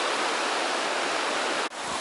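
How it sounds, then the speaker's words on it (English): The River Wharfe near Bolton Priory runs full, its rushing water a steady broadband hiss heard close and constant, with one brief dip near the end. "River Wharfe again, plenty of water in it."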